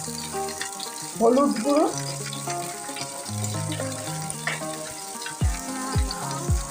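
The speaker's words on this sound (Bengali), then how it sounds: "তেলটা গরম হয়ে যাওয়ার পর এই ভেন্ডিগুলোকে ছেড়ে দেবো" Okra dropped into hot oil in a home kitchen pan for kasundi bhindi, giving a soft steady sizzle with a few sharp bursts near the end, under music and brief talk.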